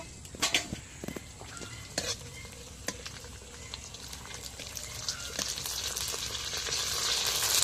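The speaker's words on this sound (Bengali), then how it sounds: "এবার আমি যে ফুচকার পাপড়গুলো ভেজে নেব" Fuchka puris frying in hot oil give a steady, close sizzle that grows denser and louder toward the end, with sharp clicks and stirring clatter early on.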